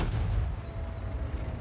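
Tank cannon fire in World of Tanks, a deep low boom rolling steadily through the whole short moment with heavy rumble and no clear separate attack.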